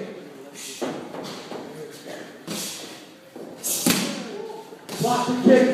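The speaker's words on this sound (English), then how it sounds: "Block the kick, fire right back. Rear push kick." A Muay Thai rear push kick lands on a pad with several dull thumps spread across a few seconds, close, mixed with shuffling footwork and talk from people nearby.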